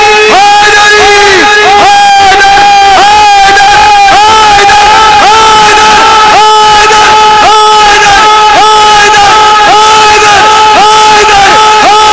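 A large crowd at a Muharram majlis gathering in Karachi shouts the devotional slogan Ya Ali in loud, rhythmic unison, the chant repeating steadily for the whole stretch with sustained voiced tones and no pauses.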